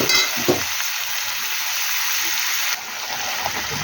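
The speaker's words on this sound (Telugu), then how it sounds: "గ్రేవీ కోసం కొంచెం వాటర్ పోయాలి" Water is poured into a simmering brinjal and prawn curry, giving a steady frying sizzle with a stirring clatter near the start that continues on and drops a little toward the end.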